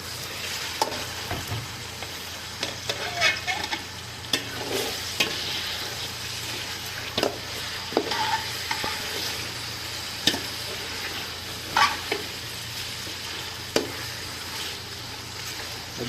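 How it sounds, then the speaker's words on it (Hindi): Chicken fries in a pan of sautéed garlic-ginger paste with a steady sizzle. Frequent scraping stirs and clacks from a spoon run over the top. "तो चिकन को हम अच्छे तरीके से फ्राई कर लेंगे"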